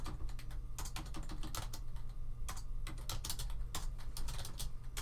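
Keys on a computer keyboard are tapped in quick, uneven bursts, close and crisp, a steady patter of individual clicks with short pauses, no voices.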